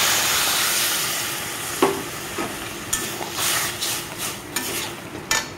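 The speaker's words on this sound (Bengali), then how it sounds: "সুন্দর করে আমি লাল লাল করে সুজিটাকে ভেজে নেব প্রথমে" Semolina roasts until reddish in a pan for a mango kheer patishapta filling, with a soft dry sizzle broken by repeated scraping strokes of a spatula stirring it. No voices.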